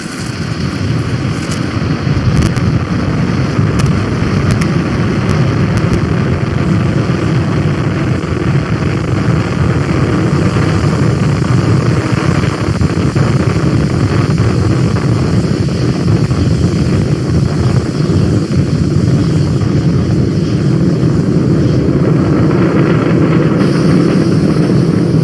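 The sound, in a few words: Falcon 9 rocket liftoff from pad 39A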